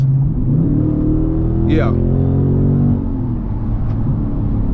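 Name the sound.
Dodge Charger engine revving with exhaust fully open, track mode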